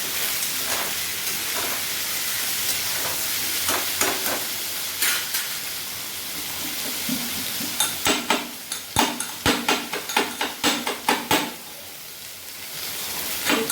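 Food fries in a pan with a constant loud sizzle, joined midway by a quick run of rhythmic stirring scrapes and spatters, close and without talk.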